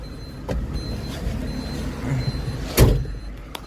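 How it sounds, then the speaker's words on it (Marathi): Vehicles pass on the Samruddhi highway, heard as a steady road rumble with a couple of whooshing pass-bys and a loud close rush near the end. "आता 1 मीटरमध्ये 2 गाड्या आल्या."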